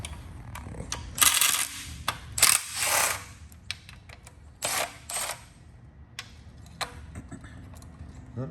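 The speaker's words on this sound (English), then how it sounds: "I'm going to be taking all the oil pan bolts out." A ratchet clicks in short bursts as oil pan bolts are backed out of a Hyundai Genesis Coupe 3.8 engine during teardown, with metallic rattles and clinks between the bursts, up close in a quiet workspace.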